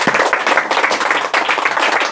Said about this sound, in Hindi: तेज ताली बजाकर परमेश्वर की महिमा करें